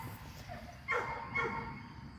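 Dog barking outdoors, two short distant barks about half a second apart over a steady background hiss, fairly faint and with no talk.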